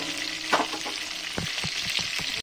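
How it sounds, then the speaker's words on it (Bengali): Potatoes for biryani fry lightly in a pan with a steady close sizzle, broken by a few soft clinks and scrapes of stirring; no one speaks. "চলো আলুগুলো এবার একটু ভালো করে লাল লাল করে ভেজে নেবো"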